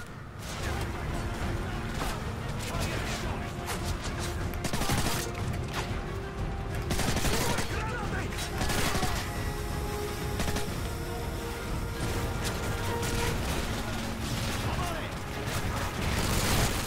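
Continuous video game gunfire from Call of Duty MW3, a dense barrage of shots and explosions throughout, heard under a player's ongoing commentary.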